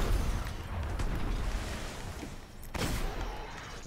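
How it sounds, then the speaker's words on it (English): Heavy explosions from the Fatebringer hand cannon in the video game Destiny, with dense booming bursts that run almost continuously, then a fresh loud blast near the end. "the explosion on the Fatebringer is a lot bigger"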